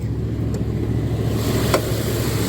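The engine of a 1999 Dodge Durango SLT, abandoned for 14 years, idles a little high under an open hood, giving a steady close hum that stays even and unbroken for the whole stretch.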